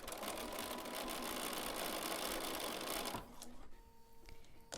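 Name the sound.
sewing machine stitching fabric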